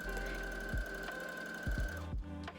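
Sewing machine stitching green fabric, a steady mechanical whir with a few low thumps, close by and fairly quiet, with no voices.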